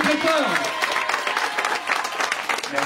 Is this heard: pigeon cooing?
no